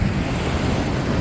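Sea waves wash continuously onto a beach on an Andalusian coast in Spain, a loud, close surf roar mixed with gusty wind buffeting the microphone, with no voices.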